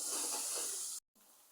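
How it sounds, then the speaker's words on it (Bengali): Onions fry in a pan with a little garlic paste added during home cooking, giving a steady close hissing sizzle for about a second before it cuts off abruptly into near silence. "পেঁয়াজগুলো কিছুক্ষণ ভাজার পরে সামান্য একটু রসুন বাটা দিয়ে দিলাম।"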